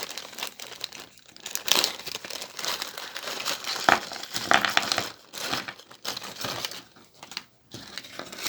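Loud, irregular crinkling comes from a plastic bag holding Warlord Pike & Shotte miniature kit parts, including metal pieces, handled up close, with no talking.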